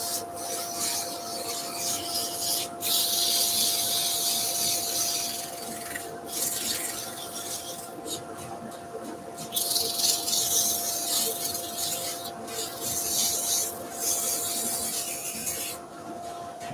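A steady rasping sander grinds away at epoxy resin in continuous bursts with brief pauses, a constant motor hum underneath, no talking.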